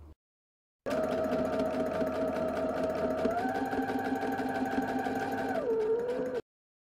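A sewing machine runs steadily through the center seam of a fabric face mask, a close mechanical whir with a slight pitch shift partway before it stops.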